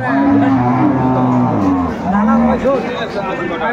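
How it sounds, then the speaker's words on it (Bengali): Dairy cows and calves at the Aftabganj cattle market in Dinajpur give loud, drawn-out moos close by, one after another over a busy market background. "আর আমরা দেখছিলাম এখানে চমৎকার একটি গাভী এবং বাছুর।"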